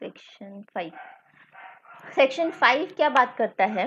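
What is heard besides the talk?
dogs barking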